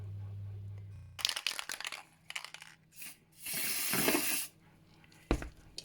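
Spray paint hisses outdoors onto roses made from old drinks cans, coming in several short bursts and one longer steady spray, with crinkly handling noises between.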